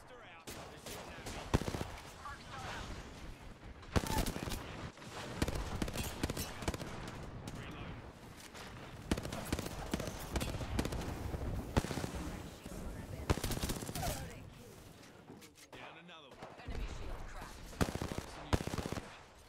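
Rapid automatic gunfire from Apex Legends, dense bursts and sustained volleys over game effects and mixed voices, loud and near through most of the span.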